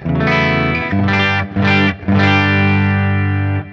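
Electric guitar through a clean amp channel with a greenback cabinet simulator, sustained tone, ringing chords broken by two brief pauses, with a touch of delay echo trailing the notes.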